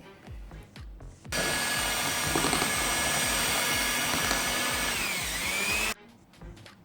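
An electric chopper whirs loudly and steadily for about five seconds as it grates a peeled carrot, starting and stopping abruptly, with quieter kitchen handling noises before and after.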